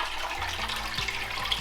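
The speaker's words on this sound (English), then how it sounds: "So I'll start adding more water" Water pours steadily from a tap into a container holding bottles during apple pressing, a continuous close gushing rush with no voices.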